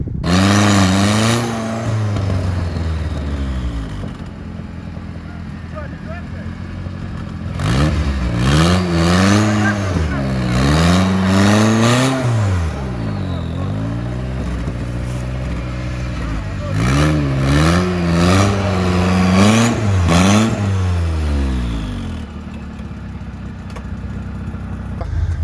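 A damaged turbocharged UAZ off-roader on a mountain ridge trail revs hard in repeated rising and falling surges between stretches of lower engine drone, loud and close throughout.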